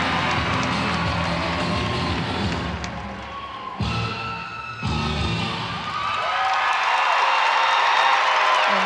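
Crowd at a North Carolina at Georgia college gymnastics meet cheering and applauding, a dense, loud roar with shouts and clapping that briefly dips before swelling again.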